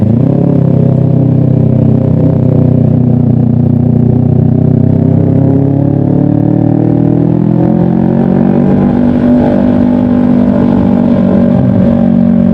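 Kawasaki Ninja 250 FI fitted with a loud Pro Liner aftermarket exhaust, revving steadily for several seconds up close, with a harsh, raspy engine roar that climbs in pitch partway through.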